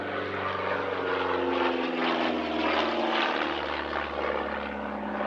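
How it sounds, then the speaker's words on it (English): The engines of a twin-engined civilian version of the Miles Messenger drone steadily overhead at the East Kirkby Airshow 2022, a loud, continuous buzzing hum with a slight wavering pitch as the plane flies by. "a twin-engined civilian version of the Miles Messenger"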